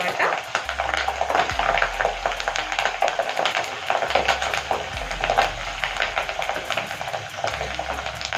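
Dried red chillies and curry leaves fry in hot oil for tempering a tomato pickle, a steady close crackling sizzle with occasional stirring scrapes, continuous and fairly loud, no talk.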